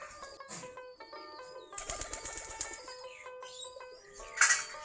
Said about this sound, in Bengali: অনেকগুলাই যে খোপের কাছে বসে আছে আমাদের দেশি গিরিবাজ কবুতর সবগুলাই।